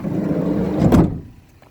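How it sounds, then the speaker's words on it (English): A Ford Transit Custom 2.0 TD van door slides and shuts with a solid thunk near the middle, followed by quiet. "You just close this door"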